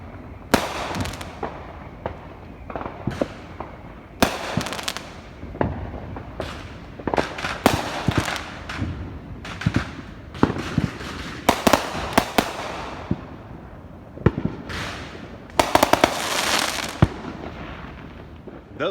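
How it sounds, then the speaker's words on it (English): Out-of-state fireworks burst at night in a long, irregular string of sharp cracks and booms, some loud and near, others fainter, with crackling between. "Definitely out-of-state fireworks."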